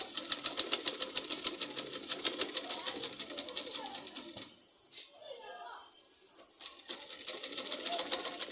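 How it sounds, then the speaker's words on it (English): Sewing machine stitching Ankara fabric for a wide-bottom bag, a fast steady mechanical whir with rhythmic needle ticking that dips briefly midway and then resumes, close and fairly loud. "So sew it like this."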